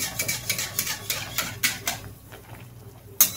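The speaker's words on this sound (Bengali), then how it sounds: "একটু নেড়ে নেই।" A spoon stirs stuffed kakrol (spiny gourd) in a hot pan, making a quick rhythmic run of light taps and scrapes. A quieter pause follows, then one sharp metallic clink.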